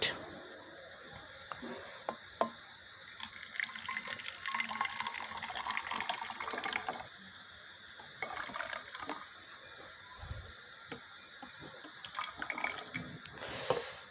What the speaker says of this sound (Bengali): বোতলের ভিতরে আমরা ঢেলে দেব হাইড্রোজেন পারঅক্সাইড।